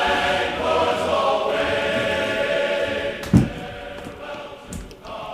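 A continuous droning motor hum with a whining tone, broken by a couple of dull mechanical knocks, as a Low Profile Anchor Wizard winch hauls a boat anchor back up.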